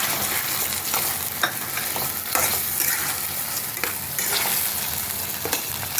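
A ground poppy seed and almond paste fries and is stirred in a pan for a white chicken curry, giving a steady close sizzle broken by scraping strokes of the spoon, with no talk.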